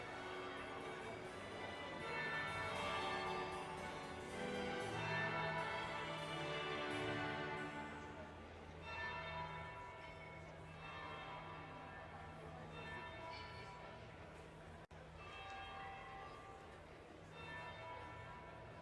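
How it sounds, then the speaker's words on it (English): Church bells toll in the Dragon Age Inquisition video game, a steady resonant ringing with layered tones that sustains and slowly decays across the whole stretch, moderately quiet, with no voices over it. "That would be the second bell."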